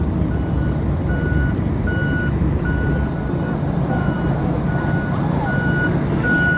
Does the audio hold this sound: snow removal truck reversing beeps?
yes